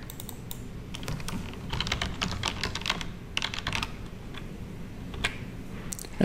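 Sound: typing on a computer keyboard

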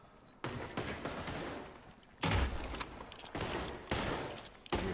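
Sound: gunfire in the video game Red Dead Redemption 2

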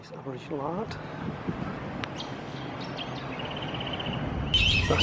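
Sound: bat screeching while roosting in a tree

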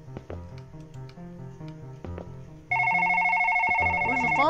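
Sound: phone ringing in a video game

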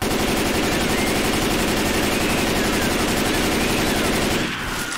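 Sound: gunfire at a zombie in video game Left 4 Dead

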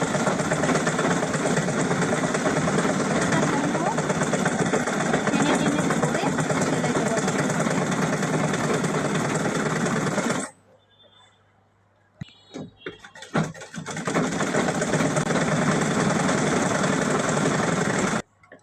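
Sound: sewing machine stitching rubber

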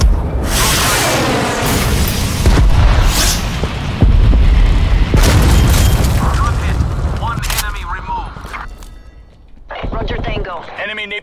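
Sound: cruise missile strike exploding in a video game

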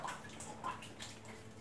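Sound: continuous sound of water dripping in an artificial cave

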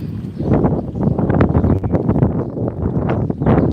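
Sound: strong wind

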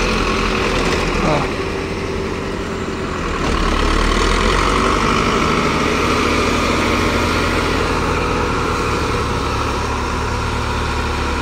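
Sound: Massey Ferguson tractor engine idling

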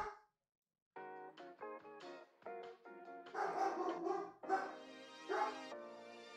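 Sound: dogs barking in the background

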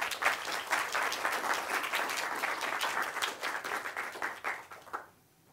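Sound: audience applause

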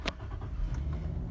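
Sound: 2008 Nissan Skyline car engine starting

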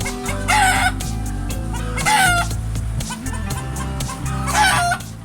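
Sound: native country chickens clucking and rooster crowing

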